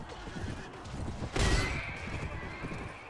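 A horse gives one loud, sharp whinny in Mount & Blade: Warband (Floris Edition), set against the continuous noise of a battle with hoofbeats clip-clopping throughout and no speech.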